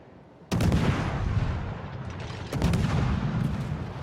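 Heavy naval gunfire from warships in World of Warships, a friendly Alaska, Kitakaze and Östergötland firing: two loud booming salvos about two seconds apart, each opening with a sharp blast and rolling into a sustained roar.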